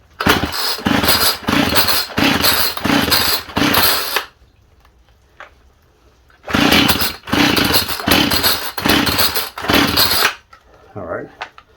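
Homelite 27AB chainsaw with running problems, its two-stroke engine roaring in short bursts, cutting out for about two seconds and then firing again in rhythmic pulses before stopping, loud and close.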